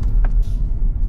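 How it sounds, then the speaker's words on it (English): A car driving along country lanes, steady low engine and road rumble close and loud from inside, with a couple of faint higher knocks. "Just driving through some country lanes."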